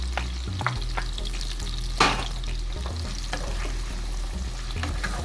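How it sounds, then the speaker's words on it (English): Salted codfish frying with seasonings in a pan for Jamaican ackee and saltfish, a steady close sizzle with a few scrapes of stirring and one sharper clatter, no talking. "you can add your codfish to your seasonings."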